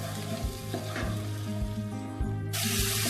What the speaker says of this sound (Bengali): জল দিয়ে ভালো করে মিশিয়ে মিনিট 2 কষিয়ে নিতে হবে।